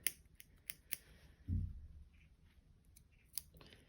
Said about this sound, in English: I'm just going to put a couple of